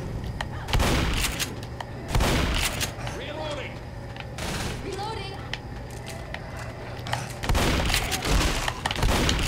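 Gunshots in Left 4 Dead, with loud bursts of firing at the start, middle and end, separated by quieter game ambience and a voice talking in between.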